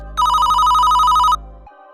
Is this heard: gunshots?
no